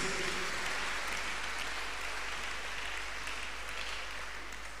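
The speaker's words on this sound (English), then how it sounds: "Shall we clap our hands in appreciation unto this great God of the chosen?" A church congregation at a Tuesday miracle service claps hands steadily in appreciation, a dense, even wash of applause heard alone without speech.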